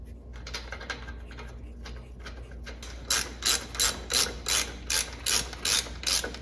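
A ratchet wrench drives bolts into the torque ball of a 1958 Buick Limited, a soft clicking run first, then a steady series of loud, evenly spaced ratcheting bursts close to the listener.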